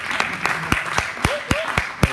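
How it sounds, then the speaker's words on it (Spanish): An audience at a literary festival event in Puerto Rico claps in a sparse, evenly spaced rhythm of distinct hand claps, with a voice murmuring underneath. "Un aplauso para Lins."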